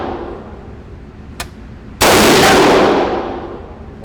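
A PTR Industries G3 clone rifle fires one loud, sharp nearby shot whose echo rolls off over about a second, with a faint click just before it.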